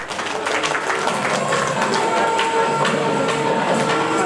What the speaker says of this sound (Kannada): ತಮ್ಮ ಜೋರಾದ ಚಪ್ಪಾಳೆ ಮೂಲಕ ಅವರಿಗೆ ಅಭಿನಂದನೆ